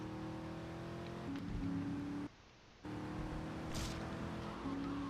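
A car driving in the game GTA Vice City, with steady engine hum and gear changes, a brief dropout in the middle, then the engine resuming with a rising rev near the end.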